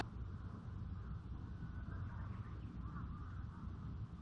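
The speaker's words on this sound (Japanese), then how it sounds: "トンビさん、" A black kite calls near a concrete seaside fishing spot, its cries faint and thin over a steady wash of wind and surf.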